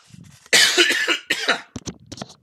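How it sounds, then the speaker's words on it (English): A tickle cough from one person: a loud, harsh burst of hacking coughs, then a second shorter bout and a few small trailing throat sounds, close to the microphone. "Man, tickle cough."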